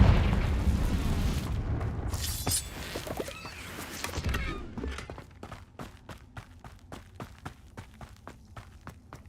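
A Confringo blasting spell explodes in Hogwarts Legacy, a loud booming burst with rumbling debris over the first few seconds, then fading into a rapid, regular series of quieter footsteps.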